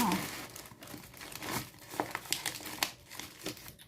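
Black protective paper crinkles and tears as a package is unwrapped, a close run of irregular crackling rustles with sharper bursts midway, and a voice speaks in the background.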